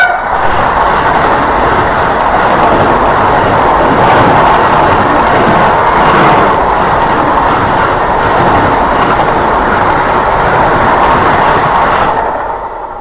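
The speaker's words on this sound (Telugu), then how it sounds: "ఆహా, మామూలు స్పీడ్ అయితే రాలేదు మన ట్రైన్ కానీ చూసుకుంటే" A MEMU passenger train pulls in on the Vijayawada to Tirupati route, a loud steady rumble of wheels and carriages that holds close, then eases off near the end, with no talking.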